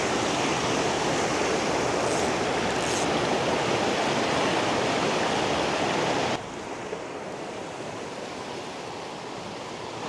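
Rushing river water roars steadily in a dense, broadband wash in the Alaskan wilderness, dropping slightly in level partway through but continuing without pause.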